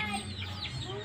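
A native rooster in a backyard flock gives short, throaty clucks up close, with faint background voices and bird chatter around it.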